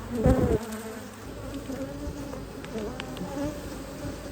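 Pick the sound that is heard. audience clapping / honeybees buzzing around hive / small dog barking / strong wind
honeybees buzzing around hive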